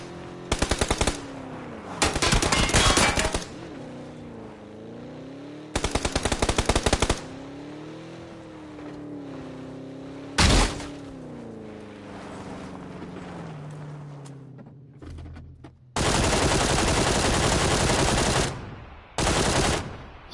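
Sustained automatic gunfire in the video game PUBG, loud bursts of rapid shots in several stretches separated by gaps, with a steady tonal in-game drone between the bursts and no talking.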